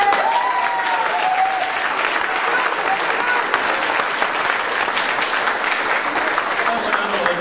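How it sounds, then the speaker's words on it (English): A political forum audience applauds Green Party candidates with dense, steady clapping and cheering that fills the room for the whole stretch, with no pause. "I'd even give up some time for you to applaud David Cobb, Pat LaMarche, Peter Camejo,"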